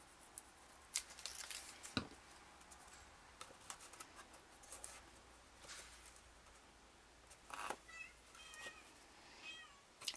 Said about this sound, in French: c'est le chat qui s'y met maintenant